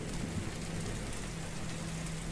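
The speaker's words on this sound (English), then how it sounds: "the wind and rain howled deafeningly in," Heavy storm rain falls steadily with wind, a dense, even hiss of downpour with a low rumble beneath, moderately quiet and unbroken throughout, no voices.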